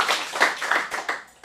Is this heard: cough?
no